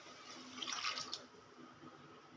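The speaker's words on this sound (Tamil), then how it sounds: "தண்ணி விட்டு கொதிக்க விடலாங்க." Water is poured into a pan of spicy potato gravy with chili powder. It makes a brief, soft splash and trickle that is quiet and heard alone, with no talk.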